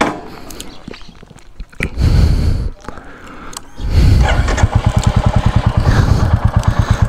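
A Royal Enfield Classic 350 motorcycle engine is cranked with a couple of short bursts, then catches and settles into a loud, close, steady thumping idle with an even, rapid beat.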